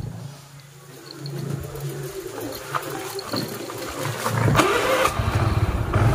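Honda Vario scooter engine cranking on the electric starter and catching, then settling into a rising idle, close by with birds chirping in the background.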